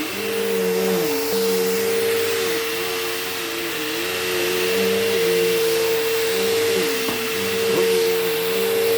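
A Bissell Cleanview Rewind Pet upright vacuum cleaner running over a rug, a steady loud motor drone with slight pitch dips as it is pushed back and forth, close and continuous.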